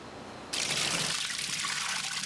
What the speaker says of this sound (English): Finely cut up paper is first mixed in water.